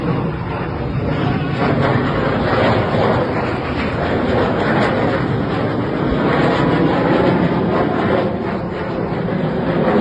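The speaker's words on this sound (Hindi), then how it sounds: "आसमान में एक नहीं बल्कि 2 फाइटर जेट्स उड़ान भर रहे थे" Two fighter jets fly over a city in Jamshedpur, a continuous loud, broad roaring rumble that stays steady and dense throughout with no voices.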